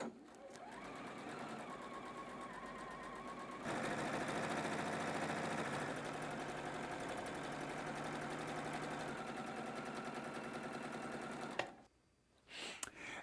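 Sewing machine stitching quilt sashing strips of batik fabric, a fast steady mechanical whirring run that speeds up partway, close and fairly quiet, ending with clunks as it stops.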